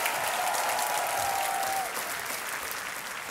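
Studio audience applause on a televised quiz show set, a dense, steady wash of clapping that holds for the full stretch and eases slightly toward the end.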